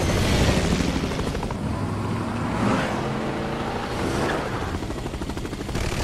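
A helicopter in Resident Evil 6 thunders loudly and close, a dense, steady rotor roar mixed with game vehicle noise and a rhythmic chopping pulse, with no talk over it.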